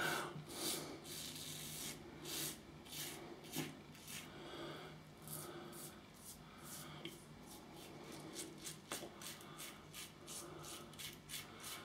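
Second shaving pass with a Hone Type 15A aluminium safety razor, close rhythmic scraping strokes rasping across lathered stubble, repeated steadily throughout with no talk over them.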